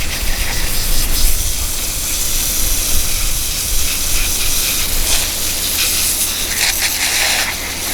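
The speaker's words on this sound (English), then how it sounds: "Just flip it like this and start hosing it down." Water from a garden hose sprays hard onto a deer skull, making a continuous close hiss that swells and eases slightly as the stream moves across the bone.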